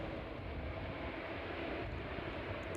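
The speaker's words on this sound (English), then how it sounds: "West Atlantic 737 arriving on stand there" A West Atlantic Boeing 737 airliner arrives on stand at an airport in the evening, its engines giving a steady, broad jet roar that holds even throughout, fairly close and without talk.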